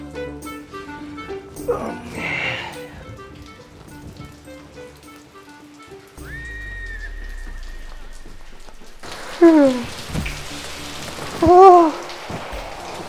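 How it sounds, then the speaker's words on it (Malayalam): Heavy rain falling, a continuous hiss of raindrops under other household sounds, with some tonal noises and brief louder bursts partway through; no clear talking. "എന്താ മഴ?"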